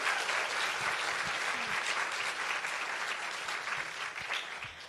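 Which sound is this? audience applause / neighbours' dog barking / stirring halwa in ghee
audience applause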